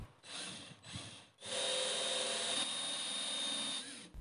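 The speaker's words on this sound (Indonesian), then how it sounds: "Saya bor terlebih dahulu." A power drill whirs in short bursts, then runs steadily and loudly for several seconds, with a grinding edge as it bores into the wood of a TV cabinet.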